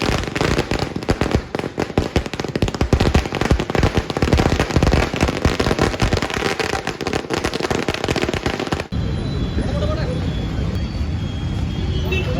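Firecrackers burst in dense, rapid crackling volleys at a political victory celebration in Wandoor, loud and continuous with a sudden drop to quieter background noise near the end.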